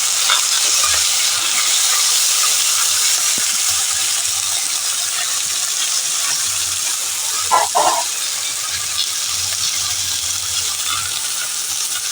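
Onion and potato frying with dried chilli in a pan, a soft continuous sizzle with a few stirring knocks, one brief clatter midway, no one speaking.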